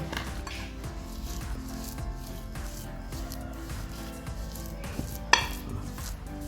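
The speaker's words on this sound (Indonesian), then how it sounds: "Kita ulek sampai rata dengan bawang putih dan cabai rawitnya ya" Peanuts, garlic and chili being ground in a stone mortar with a pestle for ketoprak, steady soft scraping and pounding strokes with one sharp knock near the end.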